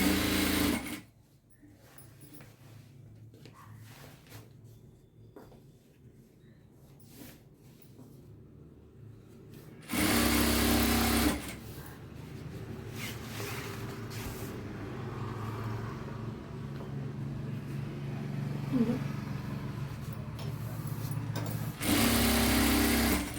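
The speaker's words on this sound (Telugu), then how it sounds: "మనం ఇప్పుడు దీని నుంచి దీని మీద ఫస్ట్ ఒక కుట్టు వేసుకోవాలి పైన" Electric sewing machine stitching a seam along pant fabric, running in steady bursts with brief pauses and a loud restart near the end, close and alone with no talk.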